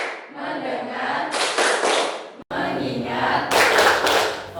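A group of children performs a tepuk fokus clapping game in a classroom, with loud rhythmic claps in two bursts separated by a brief pause and voices chanting along.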